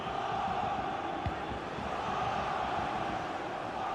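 Stadium crowd in the FIFA 22 football video game, a constant low roar of massed fans holding steady and fairly quiet throughout, with no voices standing out.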